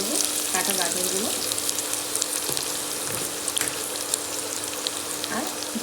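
Chopped carrots sizzle in a pan with onions already browned in oil. A continuous bright frying hiss runs throughout, with occasional stirring scrapes and clinks and no voices.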